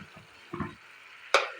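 Hot water poured into a pan of fried spices for red lentils gives a few short bursts of sizzle and bubbling, then one sharp hiss near the end, heard close and alone.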